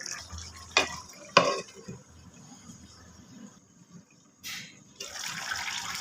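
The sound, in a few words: fish and bottle gourd curry cooking in a lidded pot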